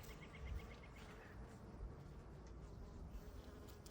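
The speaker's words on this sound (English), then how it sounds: "Oh, thank you, bees." Bees buzz steadily among the plants of a spring garden, a continuous low drone with faint higher insect tones over a soft outdoor background.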